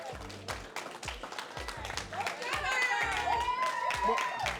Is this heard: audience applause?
yes